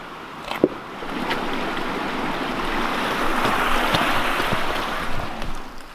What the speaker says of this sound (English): now that we've crossed our brook